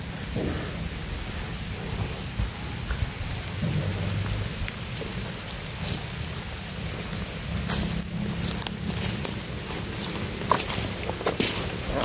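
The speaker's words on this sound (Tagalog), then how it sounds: "lumalakas na yung ulan." Heavy rain pours down steadily, a dense continuous roar with occasional louder spatters and no voices.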